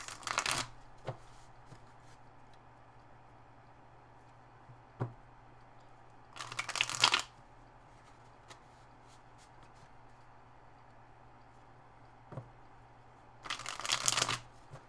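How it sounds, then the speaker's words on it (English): Three quick bursts of tarot cards being shuffled, each lasting about a second and spaced apart, with faint taps and a low steady hum between them. "So for Aquarius Rising, I'll do 3 shuffles."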